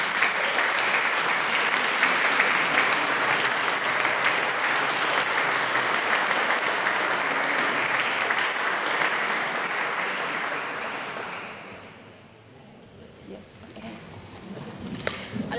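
Audience at a choral concert in Pradamano, with a Lutheran church choir and the Santa Cecilia choir, gives sustained, full applause that fades out near the end, followed by a few faint sounds and the start of a voice.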